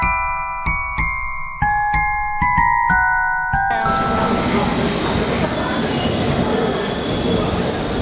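A London Underground train's wheels squeal in loud sustained tones over the first few seconds amid clanks, then give way to a dense roaring rumble as the train runs on.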